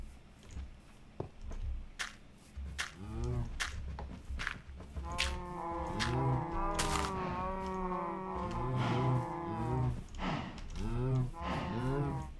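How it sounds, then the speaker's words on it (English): Cattle mooing in a farming video game, several long drawn-out moos overlapping and repeating, loud and close, with footstep-like tapping earlier and a voice talking underneath. "I hear you, cows."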